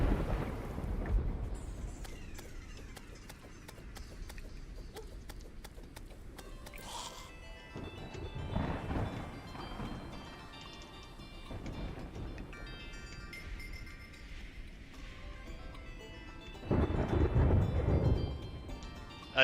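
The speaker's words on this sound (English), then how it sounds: "I do love the sound of thunder." Thunder from a storm in the game Terraria, with several deep rolling rumbles swelling and fading over steady rain, the strongest roll near the end; no talking.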